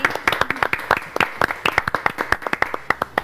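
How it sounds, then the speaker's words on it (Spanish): Guests on a talk show receive applause from a small group, sparse sharp claps with distinct individual hand strikes close by rather than a full roaring ovation. "Un aplauso para ustedes."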